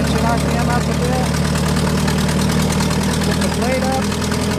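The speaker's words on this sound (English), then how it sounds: "raise the engine RPM up a bit." A 1949 Allis Chalmers Model D motor grader's engine runs steadily with a low, rumbling, slightly knocking drone, loud and close, with a voice briefly over it.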